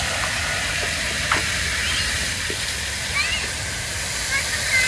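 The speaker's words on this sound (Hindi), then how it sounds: "लेफ्ट साइड पे दिख रहा है फाउंटेन तगड़ा करके" A large water fountain in a park gives a steady, loud rush of spraying and splashing water, continuous and even throughout, with faint bird chirps and a few soft knocks in the background.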